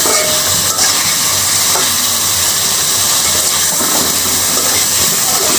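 Fish and onions fry in a hot pan with no water added, giving a steady loud hiss and sizzle that runs unbroken, with a few faint stirring scrapes.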